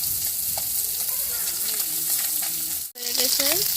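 Small fish fry in hot oil in a pan with a continuous loud sizzle, broken by light stirring clinks and a brief dip. Faint voices murmur near the end.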